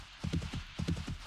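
A horse's hooves clip-clop at a steady riding pace in the Wild West mod of the survival game 7 Days to Die. Two close, even bursts of hoofbeats.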